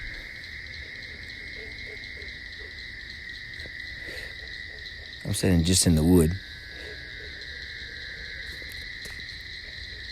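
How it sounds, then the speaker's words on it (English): A dense, steady chorus of frogs trills at night, high and unbroken, while someone speaks briefly midway. "What you hear there is myriad frogs."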